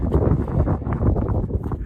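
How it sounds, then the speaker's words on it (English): Wind buffets a mountain summit near a parking lot, a steady broadband roar with gusty low rumble against the microphone running through the whole short stretch, with no voices. "A little windy up here"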